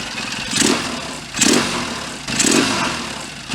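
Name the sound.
Triton motorcycle engine running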